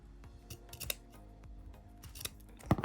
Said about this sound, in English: And I'm going to trim off any excess ribbon.